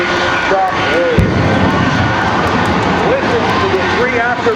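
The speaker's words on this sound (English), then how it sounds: "Listen to the three afterburners kick in." Jet-powered Shockwave truck firing three afterburners at the 2014 NAS Oceana Air Show, a loud continuous roar and rumble with an announcer talking over it throughout.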